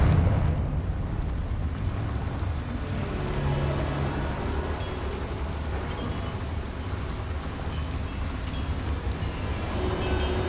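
A Confringo fire spell goes off in the video game Hogwarts Legacy, a dense, continuous roaring burst of fiery rumble that stays loud and fills the whole clip with no pause.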